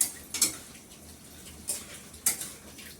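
A spatula stirs bottle gourd curry with ginger paste in a metal pan. A few scraping clinks come in quick bursts over a quiet, faintly hissing background, with no talking.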